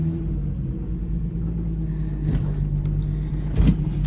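A VR6 turbo car engine idling, a steady low rumble with a slight rise near the end, close by with no talk.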